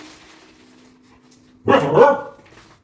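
A dog gives a short burst of loud barks after a quiet stretch with a faint steady hum, the barks close and slightly yelping, in a home kitchen.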